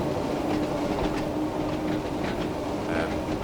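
Simulated train running on the Isle of Wight line from Shanklin to Ryde Pier in Train Sim World 2 on a late-night run, a steady, loud rolling rumble with faint wheel clatter throughout.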